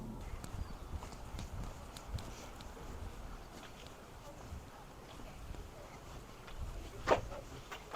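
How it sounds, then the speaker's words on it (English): Horse hooves clip-clop steadily from a horse-drawn trolley on a Solvang, California street, moderately distant under a broad wash of outdoor noise. "go for a ride on a horse-drawn trolley"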